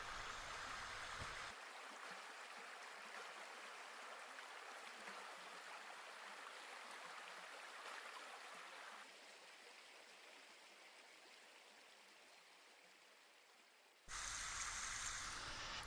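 Stream water flowing steadily with a broad, even rush and hiss, continuous throughout, shifting in level as the scene cuts between different stretches of the stream running at varied speeds.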